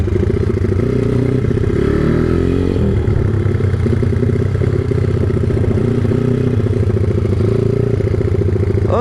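A motorcycle engine warming up after five days unused runs steadily up close, rising in a clear rev around two to three seconds, then settling back into an even idle with a light mechanical clatter.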